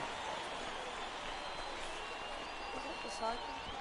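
Crowd cheers and applause in a PS4 baseball video game as teammates on the top step urge a batter toward his fourth hit, a steady roar with faint commentary voices underneath.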